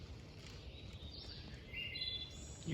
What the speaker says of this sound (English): You can hear the birds are chirping.